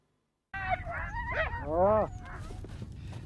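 Inuit sled dogs used for hunting polar bears on sea ice near Arviat, Canada, giving a few close whining, yelping howls that rise and bend, followed by lower barks and outdoor background noise.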